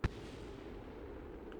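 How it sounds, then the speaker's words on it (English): Distant boom from discarded spacecraft parts exploding in Kerbin's atmosphere in Kerbal Space Program, a single sharp burst at the start followed by a low continuous rumble. "Oh, I heard an explosion from one of the things we're disposing in Kerbin's atmosphere."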